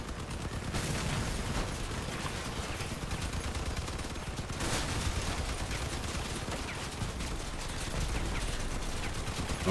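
Dense machine-gun fire from a Triple-MG Workhorse vehicle build in CrossOut PvP, loud and nearly unbroken rapid automatic bursts layered over rumbling combat noise for the whole stretch, with no talking.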